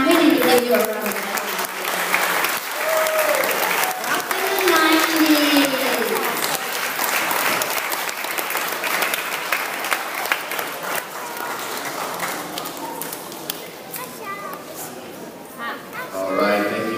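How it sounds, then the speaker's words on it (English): School audience applauding first graders with sustained dense clapping and crowd noise, children's voices and cheers mixed in, tapering off gradually toward the end. "We need to give you a round of applause."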